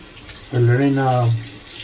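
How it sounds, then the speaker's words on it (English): Razor blades rinsed under a running tap: a short rush of water that starts abruptly, lasts under a second, then stops, close and fairly loud. "The blades rinse out quite well, so I'm digging that."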